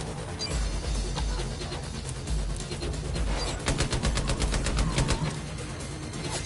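Gunfire in the shooter game Far Cry New Dawn, a dense steady barrage with a run of sharp rapid cracks near the end, loud and close throughout with no speech.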